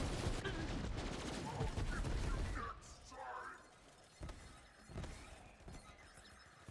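Grenade explosions in the Borderlands 3 shooter game: a dense burst of blasts and crackling debris for the first few seconds, then scattered quieter thuds and bangs as the action thins out.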